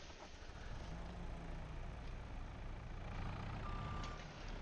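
A truck's reversing alarm in the Farming Simulator 22 farming game beeps faintly and steadily over a low engine rumble, sitting quietly in the background with no talk.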